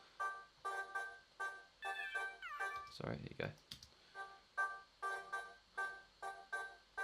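Layered vocal samples pulse in rhythmic chopped stabs with a guitar-feedback-like sweep in the middle, and a brief spoken apology interrupts partway through.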